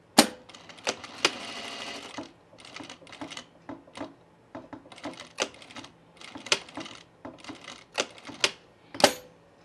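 A sewing machine works a corner of double gauze fabric at a shortened stitch length, giving uneven bursts of sharp clicking and brief whirring with pauses between, close and fairly loud.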